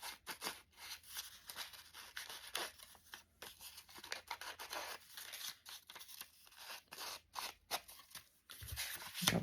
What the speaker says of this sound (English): let's cut this because I want a clean edge on this one.